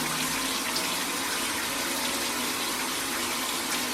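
Shower water runs in a steady, loud, unbroken spray over a pet coastal carpet python, a dense hiss filling the whole stretch with no voices.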